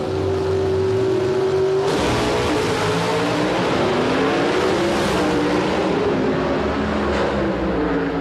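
An Oldsmobile and a Dodge drag race down the quarter mile, engines roaring at full throttle, starting with a steady tone that bursts into a loud, sustained acceleration roar with rising and shifting pitch.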